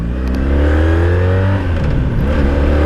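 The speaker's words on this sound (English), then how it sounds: "Rev out second gear" 1984 Honda Sabre V65 VF1100S motorcycle engine revving out in second gear, a loud, close, rising engine note with strong harmonics climbing steadily, then easing slightly as the pitch settles.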